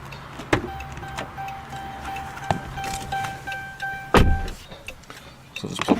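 Driver's side power window of a 2013 Dodge Charger SE moving, a steady motor whine running for a few seconds, with clicks and thumps from inside the car around it.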